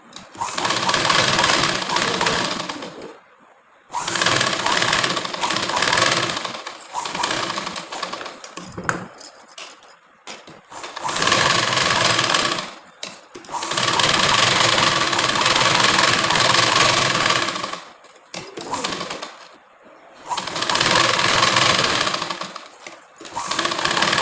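Sewing machine stitching a blouse in close, loud bursts of rapid mechanical whirring, several runs of a few seconds each separated by short pauses.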